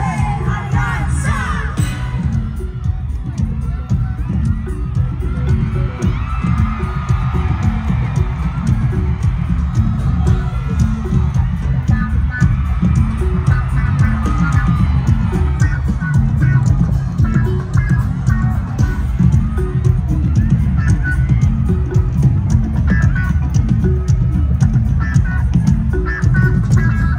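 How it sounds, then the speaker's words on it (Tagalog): A large crowd at a Philippine political rally cheers and yells loudly and continuously, a dense roar of shouting voices with whoops rising above it, sustained for nearly half a minute. "Malakas na hiyawan muli para kay Senador Lito Lapid!"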